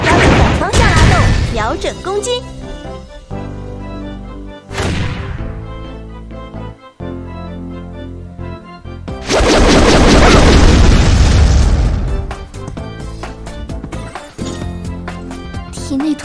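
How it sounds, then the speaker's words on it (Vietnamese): Boss fight in the mobile game Gunpow, loud booming explosions and bursts of gunfire layered over a steady game music score, with a long roaring blast midway and a single short spoken word. "Bây giờ mình sẽ bắn con boss này"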